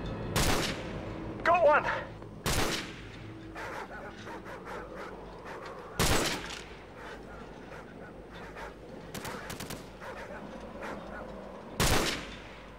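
Gunfire in the Call of Duty 4: Modern Warfare campaign, with several sharp, loud shots spread irregularly over a steady battle background while voices talk throughout.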